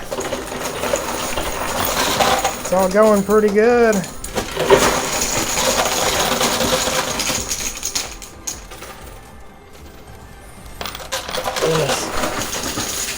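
Coins clatter and drop steadily in a high limit coin pusher machine, with a dense metallic jingle running throughout. Electronic machine tones sound briefly partway through, and a person talks over the noise.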